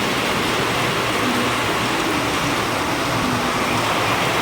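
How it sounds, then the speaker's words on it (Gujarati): Heavy rain pours down steadily in a village, a dense, continuous wash of close rainfall on surfaces with no pauses, loud and even throughout. "જુઓ તમે બહુ જોરદાર વરસાદ આવે છે"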